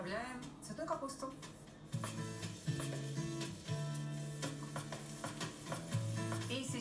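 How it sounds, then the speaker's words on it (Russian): Cauliflower pieces clatter and stir in a hot frying pan with fried onion and garlic, a soft sizzle underneath, while a voice talks over the cooking and a tune plays in the background. "сейчас на сковородку отправляем цветную капусту"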